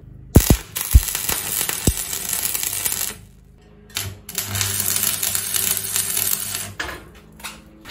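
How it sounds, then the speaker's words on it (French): A tack weld is struck on a metal stair step, preceded by a few sharp metallic clinks, then a crackling, buzzing arc lasting a few seconds with a brief pause, close and fairly loud. "je vais venir mettre ici un point de soudure"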